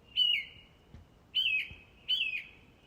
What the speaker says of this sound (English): Look out! Squawked the first bird.